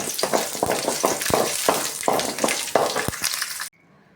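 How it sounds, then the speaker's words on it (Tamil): Garlic fries alongside onion in a pan, with a steady sizzle broken by repeated stirring scrapes and taps of a utensil, ending abruptly. "அது கூடவே பூண்டையும் சேர்த்து வதக்கி விடுவோம்"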